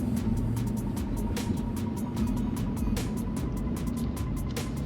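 A 1967 Ford GT Falcon drives along the road, heard as a steady, moderately loud engine drone with road and wind rush, plus repeated faint clicks and ticks from inside the car, with no one talking.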